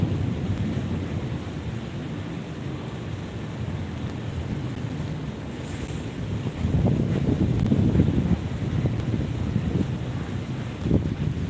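Strong wind from Cyclone Fengal roars steadily, with rain-like hiss. The gusts swell louder partway through and stay heavy to the end. No voices.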